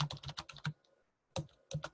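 Keys tapped on a Cisco router configuration computer keyboard, a quick burst of clicks, a short pause, then another short run of keystrokes, close and clear.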